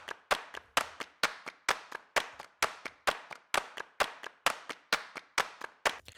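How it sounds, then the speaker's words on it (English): A dry clap loop sample without effects: crisp, evenly spaced claps repeating in a steady rhythm, close and prominent, with nothing else playing. "Just a clap loop, nothing crazy."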